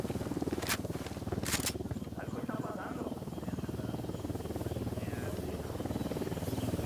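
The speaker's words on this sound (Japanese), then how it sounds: "ユニダットのヘリが来る。" An enemy Unidad helicopter approaches in the video game Ghost Recon Wildlands, its steady, low rotor thrum filling the background throughout at moderate loudness, with brief sharper sounds near the start.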